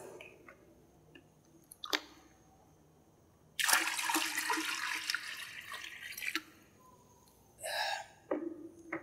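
Cold water is poured into a hot foot bath basin in one steady splashing stream lasting a few seconds, with quieter handling sounds and brief splashes before and after.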